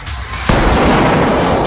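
A flashbang grenade goes off: a single sudden, loud blast cuts in after a quiet moment, followed by a dense roaring wash of noise that slowly fades.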